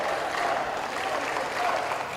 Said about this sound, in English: The crowd getting behind the Kazakh boxer.